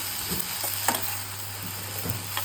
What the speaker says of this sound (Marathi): आपण हे सगळं चांगलं भाजून घ्यायचं आहे